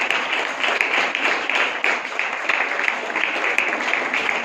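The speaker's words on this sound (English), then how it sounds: "Big round of applause for all the participants and faculty coordinators who made this competition successful." An audience at a college valedictory function claps for competition participants and faculty coordinators, a sustained, fairly dense round of applause heard from within the hall that stays even and continuous throughout.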